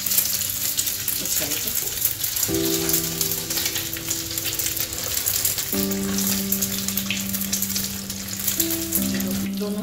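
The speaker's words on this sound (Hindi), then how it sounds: "इस तरीके से हल्के हाथ से ये उठाकर, गरम तेल हो चुका है इसमें डाल देते हैं" Egg-dipped mutton cutlets fry in hot oil with a steady, close sizzle and crackle that runs throughout, under a brief spoken phrase and sustained tonal background sounds.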